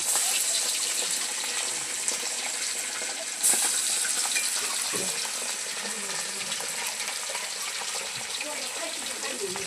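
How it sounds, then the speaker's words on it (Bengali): Fish frying in a pan at a village home cooking spread, a steady bright sizzle running throughout with a few clinks and bumps, voices murmuring faintly behind it. "এই যে এখানে মাছ ভাজা চলছে"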